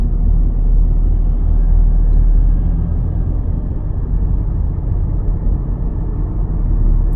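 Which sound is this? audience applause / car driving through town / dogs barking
car driving through town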